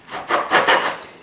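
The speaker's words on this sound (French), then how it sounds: "Et je vais découper des disques" Puff pastry dough being cut into discs with a cutter in a kitchen, a few soft close scraping rubs in quick succession.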